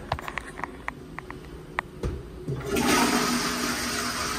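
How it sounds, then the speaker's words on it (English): A self-cleaning toilet seat gives a few soft mechanical clicks and ticks, then a rushing water sound swells as it cleans and rotates, close and fairly quiet with no talk. "It cleans, it moves. How many toilet seats have you seen do that?"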